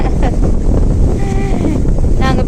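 Strong wind gusting by a lake shore, a loud steady roar buffeting the microphone throughout, with faint voices beneath it.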